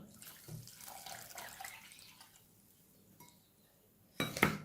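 Water is poured into a pot with sugar for baklava syrup, starting as a soft, running trickle and ending in a louder, brief splashing pour, with light clinks of kitchenware.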